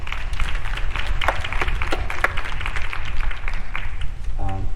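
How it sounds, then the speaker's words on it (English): Dinner audience applauding Randy Harris at a political party event: dense clapping from a room of people, fairly loud and continuous, with a voice coming in at the very end. "Let's have a round of applause for Randy Harris."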